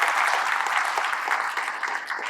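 Audience of students applauding during a lecture session, a dense, steady round of many hands clapping at close range, holding at an even level for a couple of seconds with no speech over it.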